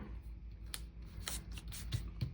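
Scissors cut through paper planner pages in a quiet room, giving a few soft, close snips and rustles at an uneven pace with no talking.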